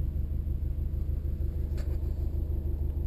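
A 2007 Subaru Impreza WRX wagon's turbocharged boxer engine idles with a low, steady rumble and regular pulsing throb, close and continuous with no voices.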